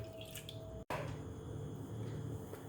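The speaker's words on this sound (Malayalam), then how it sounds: "അതേ അളവിൽ തന്നെ വെള്ളം എടുത്തിട്ടുണ്ട് അത് നമുക്ക് ഇതിലേക്ക് ഒഴിച്ചു കൊടുക്കാം" A short, soft rush of water pouring into a pot, briefly interrupted by a clunk, then continuing as a quiet trickle.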